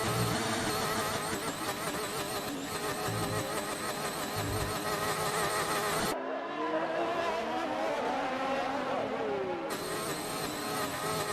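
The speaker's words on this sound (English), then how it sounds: "There's a weird sound going on with Deja Vu's engine." A race car's engine in a Monaco racing video game whines with a strange warbling, droning tone that cuts out abruptly midway before returning, with no clear talk.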